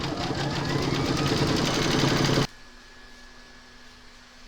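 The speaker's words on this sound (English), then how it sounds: "Pop your hoop into your machine and stitch colour number 5." An embroidery machine stitches colour number 5 on hooped fabric, running with a loud, steady, rapid rhythmic hum before stopping abruptly, leaving a faint background hum.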